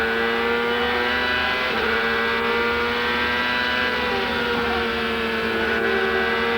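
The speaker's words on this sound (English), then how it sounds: "Let's just go quiet a moment, listen to the engine, particularly as he approaches the kink on the exit of this corner." A CART race car engine at the 1999 Texaco/Havoline 200 screams at high revs, then eases off as the driver lifts through a kink before climbing again, loud and steady for the whole stretch.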